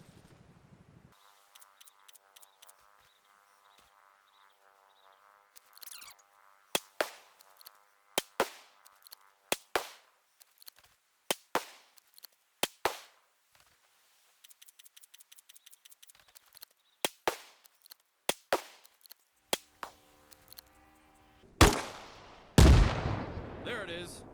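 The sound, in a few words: 40mm grenade launcher firing in video game Arma Reforger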